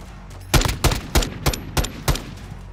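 Six rapid bursts of SMG fire from Call of Duty Modern Warfare II during a team deathmatch, each a loud, sharp cluster of shots spaced roughly every third of a second apart, with no talking.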